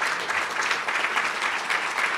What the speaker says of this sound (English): give their presenters a big round of applause for the rooms you're in